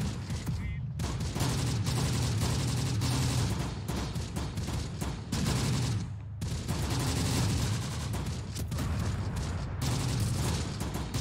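Dense mortar and artillery fire in the WWII strategy game Close Combat: The Bloody First, a continuous loud barrage of overlapping gunshots and booms with machine-gun bursts, filling the whole stretch with only brief dips.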